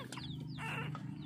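A chicken sick with a cold makes short, strained, raspy clucking sounds close by, against steady background noise.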